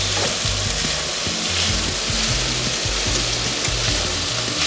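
Italian sausage fries loudly in a pan, filling the whole stretch with dense, continuous sizzle and crackle, with faint clinks of a utensil underneath and no talking.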